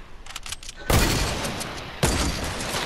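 Gunfire in Fortnite: a dense burst of loud shots cracks in, sustained and crackling, with a second sharp volley hitting about a second later; faint clicks precede it.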